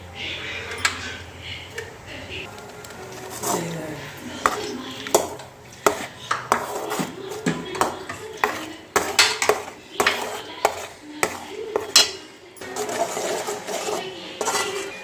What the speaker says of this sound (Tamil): பால் நல்லா காஞ்சிருச்சுங்க இப்போ இந்த கேரட்டு விழுத போட்டுடலாம் கேரட்டும் நம்ம கே ஏலக்காயும் நம்ம அரைச்சோம் இல்லைங்களா அதை போட்டுடலாம்